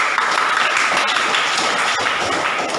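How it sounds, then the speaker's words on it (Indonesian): Students in a school classroom break into dense, steady applause that continues for nearly three seconds, with scattered taps and voices blended in. "Beri tepuk tangan."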